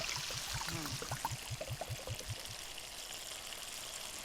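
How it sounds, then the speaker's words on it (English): Vermouth pours into a pan with a gurgling, glugging rhythm for a couple of seconds, then a soft sizzle continues. "So time to add some vermouth."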